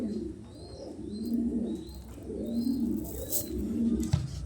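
Pigeons kept in a loft coo in slow repeated rolling phrases, close and steady across the whole stretch, with faint higher chirps above.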